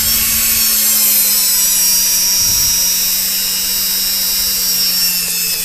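A small electric motor spins at high RPM under ESP32 speed control, giving a loud, steady high-pitched whine with a constant low hum underneath that holds for the whole stretch.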